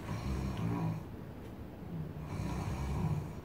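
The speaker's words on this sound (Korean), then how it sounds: "가벼운 코골이" Light, steady snoring with soft rhythmic breaths, quiet and close, continuing without pause.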